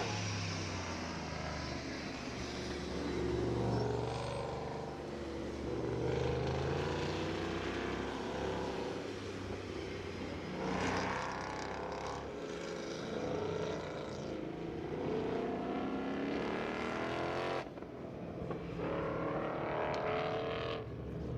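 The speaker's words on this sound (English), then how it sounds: "Sam Strano in the blue, the last one out in the parade lap right now" Muscle cars drive the parade lap at a race track, several engines rumbling and droning at a distance in a long continuous blend of low-pitched engine noise.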